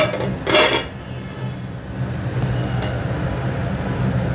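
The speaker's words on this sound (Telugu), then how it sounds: "మూత పెట్టేసుకోండి." A lid set down on a cooking pot of Telangana-style puntikura (sorrel leaves) and boti curry gives a short metallic clink near the start, followed by steady low kitchen hum and faint background noise.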